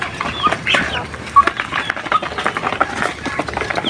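Young native chicks squabble over food with busy, overlapping peeps and clucks at close range, broken by scratchy pecking and pattering sounds.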